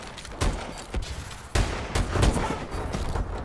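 Gunshots in the Call of Duty video game during trickshots crack out in several sharp bursts, loud and close, with irregular spacing and no talk.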